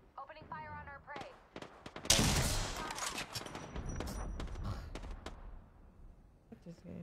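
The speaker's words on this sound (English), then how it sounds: "Opening fire on our prey." Video game gunfire: a loud burst of rapid shots with a dense, crackling volley that trails off, preceded by brief clicks and muffled noise.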